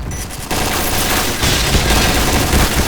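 Dense automatic gunfire rattles through a shootout in the Point Blank video game, loud and continuous with overlapping bursts and no pause.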